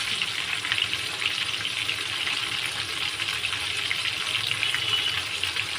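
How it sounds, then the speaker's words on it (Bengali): A loud, steady sizzle of a whole chicken frying in hot oil fills the whole stretch, a dense crackling hiss with no pauses. "এখন মুরগিটাকে ভালো করে ভেজে নিই।"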